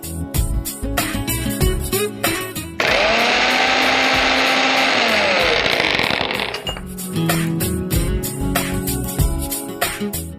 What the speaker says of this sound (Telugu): ఓకే, సో నువ్వులు చల్లారిపోయాయి. సో పొడిలా కొట్టేసుకోవాలి దీన్ని.